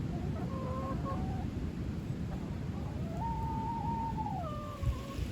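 Hens from a backyard flock of fifteen wander outside their coop and pen, a few drawn-out clucking calls rising over a steady noisy outdoor background.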